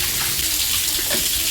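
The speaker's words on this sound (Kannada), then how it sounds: "ಮನಿ ಪ್ಲ್ಯಾಂಟ್ ನೋಡಿ ನೀರು ಬಿಡಾಕತ್ತೀನಿ" Water pours steadily and splashes onto a potted money plant being rinsed of dust, a brief close continuous gush.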